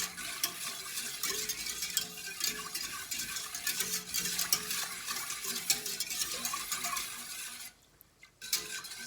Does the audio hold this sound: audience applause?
no